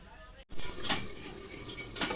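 Metal lid set onto a cooking pot of raw hilsa fish in mustard-poppy sauce, two bright clinks about a second apart, close and moderately loud over quiet kitchen background.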